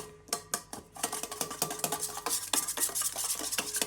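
Food is mixed in a bowl with a spoon after bananas and salt are added, giving repeated close scraping and clinking strokes in an irregular rhythm, with no talking.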